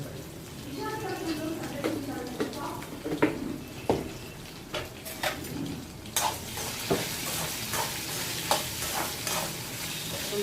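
Onions fry with salt in a pan, a soft sizzle under repeated spatula scrapes and clinks, with a voice talking quietly at times.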